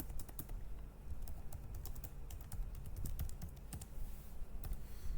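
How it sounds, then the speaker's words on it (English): Rapid typing on a computer keyboard during an Excel session, quick clustered key clicks close up, continuous with a few short pauses. "don't mind while typing, many a times the mistake used to happen"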